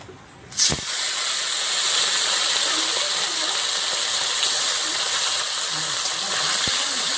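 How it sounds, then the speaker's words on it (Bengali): Small fresh pond fish, charapona, dropped into hot mustard oil in a kadai, a sudden loud hiss after a brief knock, then a dense, steady frying sizzle close to the pan. "মাছগুলো 2 পিঠ লাল লাল করে ভেজে নেবো।"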